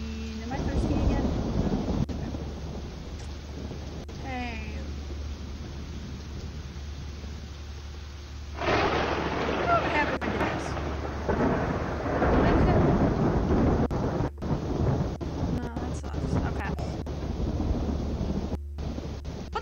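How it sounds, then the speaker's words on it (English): Rain and thunder in a video game: a steady wash of rain with a louder rumbling swell of thunder from about the midpoint onward, filling the whole clip. "Back outside in the rain."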